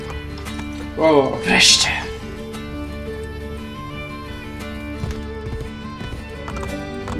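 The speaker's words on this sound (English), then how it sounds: "Dlaczego uciekasz? Zły koniu." A horse in Assassin's Creed Brotherhood whinnies loudly twice near the start, then steady clip-clopping hooves continue beneath a speaking voice and soft background music.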